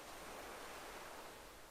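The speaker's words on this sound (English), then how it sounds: "Listen to the waves coming in" Faint, soft wash of ocean waves coming in at a beach, a steady hiss of surf that eases slightly toward the end.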